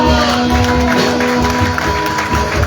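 A church congregation clapping together in a worship service, dense rhythmic applause mixed with crowd voices and a sustained musical tone underneath, loud and close throughout.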